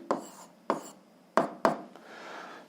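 A pen writes a physics formula on paper. Four separate sharp scratchy strokes come at irregular intervals, close and fairly loud, followed by a softer continuous scribble.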